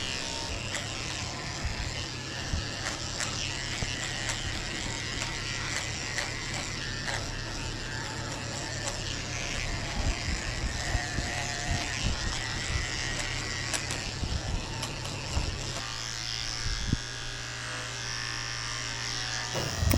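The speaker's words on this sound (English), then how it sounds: "I'm shaving the base of her tail with a 7 blade." Electric clippers fitted with a 7 blade buzz continuously while shaving the base of a Shih Tzu, Havanese and Yorkie mix dog's tail, the motor note steady with small creaks and rattles as the blade moves through her hair.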